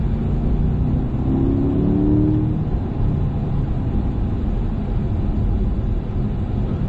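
A vehicle speeding up in an in-car recording, its engine a steady loud low drone with rising harmonic tones early on, continuous and close throughout, with no talking.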